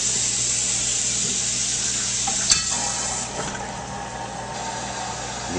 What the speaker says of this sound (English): Now I'm just going to top it off with regular tap water.